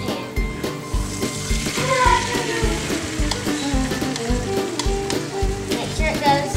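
Whisked eggs with a splash of milk cook in a frying pan, a close, lively sizzle with rhythmic stirring and scraping thuds and a faint voice in the background.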